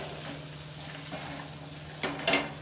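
Chopped bathua greens fry with potatoes in hot oil, a soft, even sizzle held low and close, ending in a couple of louder scraping stirs.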